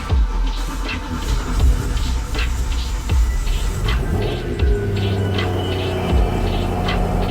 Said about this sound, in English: So now we're going to start the vehicle